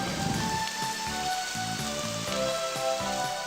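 Steady rain hiss in the video game Eternal Eden, a constant sizzling patter underneath looping game music with low repeating notes.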